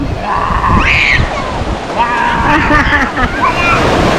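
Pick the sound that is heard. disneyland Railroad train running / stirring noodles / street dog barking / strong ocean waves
strong ocean waves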